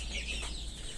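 Young chickens about two months old cluck steadily on a small farm, a close, continuous chorus of overlapping calls with no voices.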